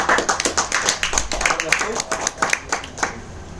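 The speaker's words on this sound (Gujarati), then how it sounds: "જોરદાર તાળી થઈ જાય." An audience at a product seminar claps in a burst of sharp, uneven hand slaps that swell and fade, with a voice speaking over the applause.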